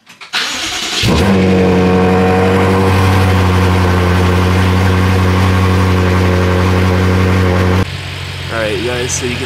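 BMW X5M fitted with RK intakes starting up: a crank catches into a loud, deep roar, then settles into a rich, steady idle that drops abruptly near the end before a few brief rev blips.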